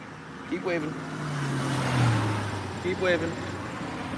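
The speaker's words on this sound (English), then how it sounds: "The cars aren't stopping." Cars drive past on a road near a farmstead, two vehicle passes swelling and fading over a steady traffic rumble, with people talking over the passing engines.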